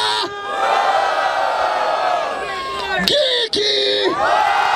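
Loud crowd at a freestyle rap battle in a São Paulo qualifier cheers, whoops and yells continuously, with a host's shouted voice breaking through near the end.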